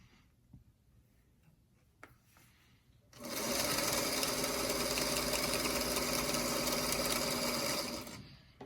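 A sewing machine stitches quilt block pieces for a Daisy Chain block. After a few quiet seconds of faint handling, the motor starts with a steady, loud whirring run of about five seconds, then winds down.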